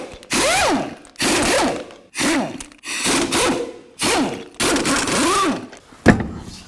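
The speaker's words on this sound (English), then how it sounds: "take off all the lug nuts." Socket wrench spinning lug nuts off the wheel of a 2000-2006 Chevy Tahoe, close and loud, in six separate bursts of mechanical whirring and clicking with short pauses between them, ending in a sharp clank.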